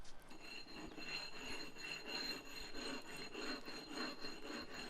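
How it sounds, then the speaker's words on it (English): A rubbing stone is worked over a repaired concrete walkway to knock down high spots. It makes a continuous, close gritty rasp in steady back-and-forth strokes, with no voices. "just going over it with a rubbing stone and taking off any little high areas"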